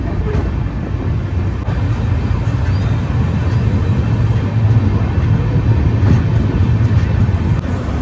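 The Sairang–Kolkata Express on the Mizoram line rolling into Bhairabi station, a continuous loud low rumble and rattle of carriages heard from inside the train, steady throughout with no clear talk.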